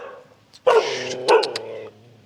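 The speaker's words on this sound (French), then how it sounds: "Ah, faut toujours qu'ils aboient pour montrer qu'ils sont là, hein." Dogs barking in Sa Kaeo, Thailand: a couple of loud, close barks in quick succession, the second burst a little stronger, over a quiet outdoor background with no talking.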